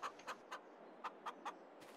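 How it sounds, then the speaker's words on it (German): Chickens in a small hen coop in Farming Simulator 22 cluck in a series of short, evenly spaced calls, about seven in two seconds, faint over a steady low background hum, with no talking. "Wir haben die Hühners."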